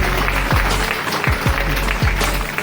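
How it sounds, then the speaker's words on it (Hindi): School students at an Independence Day celebration applaud themselves, a steady crowd clapping that fills the hall at even loudness, with low rumbling thumps from the room underneath. "तो आप एक बार मेरे लिए, अपने खुद के लिए तालियां बजाइए"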